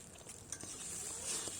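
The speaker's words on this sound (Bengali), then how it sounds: "কিছুক্ষণ 2 মিনিটের মতো নাড়াচাড়া করে মিশিয়ে নিতে হবে সবজির সঙ্গে" Pasta, mixed vegetables and egg being stirred in a pan, giving soft scraping and light sizzling with a few small clinks of the utensil, close and fairly quiet.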